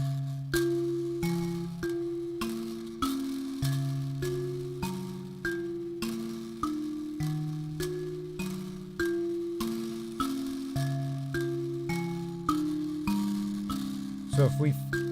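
Mbira played with two interlocking melodies together, bright plucked metal tines ringing in a steady repeating cycle over low sustained tones; moderately quiet and alone, with a louder flourish near the end.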